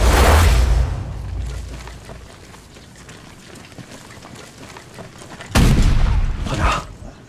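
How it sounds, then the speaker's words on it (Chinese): Heavy artillery fire in a war film about Japanese heavy guns shelling a position: a loud deep boom opens, fading into low rumbling, then a second strong blast near the end. "现在只能听到炮响"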